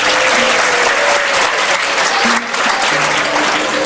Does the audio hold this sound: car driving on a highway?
no